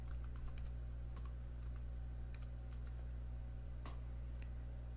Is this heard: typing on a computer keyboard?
yes